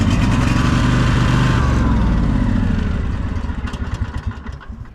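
An Etesia Attila AK95 ride-on brushcutter engine runs with a loud, steady close-up drone that softens and grows uneven toward the end, with no voices.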